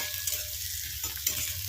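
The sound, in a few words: frying onion in a pan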